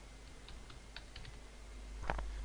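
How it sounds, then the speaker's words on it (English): Quick, light clicks of fingers typing a short word on a computer keyboard, a few close taps in an irregular burst over a low steady hum, with no one speaking. "we are going to bring our text animation by typing a simple text here"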